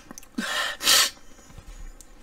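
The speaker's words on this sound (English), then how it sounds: "Sorry, I sneezed and discombobulated." A single sharp sneeze, preceded by a quick drawn-in breath, bursts out loud and close, then trails off into quiet breathing.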